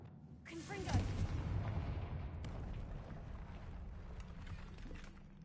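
The Confringo fire spell goes off in Hogwarts Legacy with a booming blast and then a long, rumbling, crackling debris wash. The roar stays steady and fills the whole clip.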